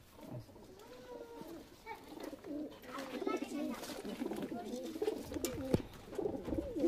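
Local desi pigeons coo softly in a loft, repeated low rolling calls building in rhythm and overlapping one another against a quiet background.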